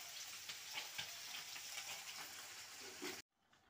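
Fish fries in a pan with a faint, steady sizzle and crackle and a few soft clinks, cutting off abruptly near the end.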